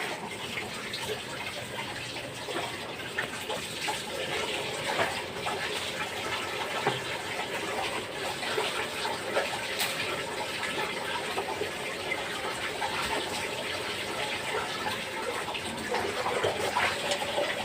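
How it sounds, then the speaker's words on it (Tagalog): Water runs steadily from a tap while dishes are washed at home, a constant close splashing gush that continues throughout with no talk over it. "Patayin mo muna yung tubig. Sayang yung tubig."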